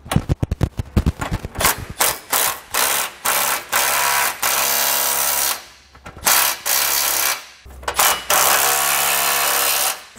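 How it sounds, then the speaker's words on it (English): A socket ratchet snugs up nuts on a Draw-Tite Ultra Frame trailer hitch being fitted to a 2018 Chevrolet Express, giving close, loud bursts of rapid clicking that start fast and then settle into steady repeated strokes with short pauses between them. "So now we're gonna go ahead and snug up all our nuts here."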